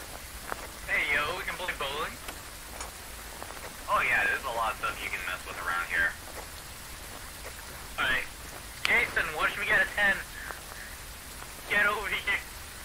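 Steady rain in the horror video game Phasmophobia, a constant hiss running underneath and between repeated bursts of speech that sit over it.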